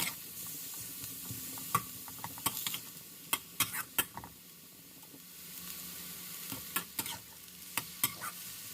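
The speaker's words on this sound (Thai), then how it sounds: "ผัดหมูของเราไปเรื่อยๆนะคะ" Minced pork is stir-fried in a pan for Thai holy basil pork, a soft continuous sizzle broken by sharp spatula scrapes and clacks in irregular bursts, fairly quiet and with no one talking.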